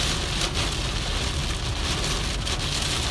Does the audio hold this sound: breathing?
no